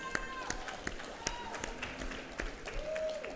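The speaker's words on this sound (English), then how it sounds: "Give him a round of applause." Audience clapping greets new head football coach Willie Simmons at a 2018 MEAC football press luncheon, a steady crowd patter with sharp individual claps, while a voice carries over it.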